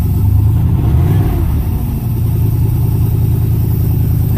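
A 1981 Trans Am's 4.9-litre 301 turbo engine with FiTech fuel injection idles slightly high, a loud, close, steady rumble with a brief dip in the middle.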